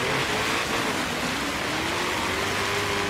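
A 900-horsepower Mustang in Forza Horizon 3 sliding sideways on snow, a loud continuous engine drone with a slowly rising tone over dense tire and road noise, with no voice.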